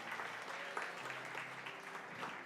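Congregation applauding during a church service, steady sustained clapping from many hands, moderately distant and continuous throughout.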